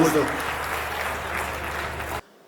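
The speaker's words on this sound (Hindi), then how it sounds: "मैं चाहता हूं एक बार जोरदार तालियां बजाइए" An audience at a Hindi comic poetry gathering claps loudly for a poet, a dense burst of applause that carries on for about two seconds and then cuts off abruptly.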